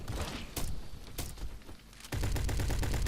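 Rapid pistol fire in the Roblox game Bad Business, with a few separate shots followed by a dense burst of quick repeated reports at close range near the end.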